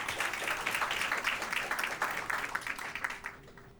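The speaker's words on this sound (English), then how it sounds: "let's give another big round of applause to Miss Aiyan." Applause from a seated audience at an investment and market research panel session in the Philippines, a dense run of clapping that holds steady and then tapers off over several seconds.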